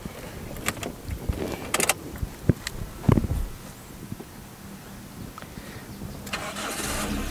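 A 1996 Toyota Corolla Great 1.6 AE101 has its key turned. A few clicks and jingles come first, then a sharp cranking burst as the engine catches and settles into a steady idle close by.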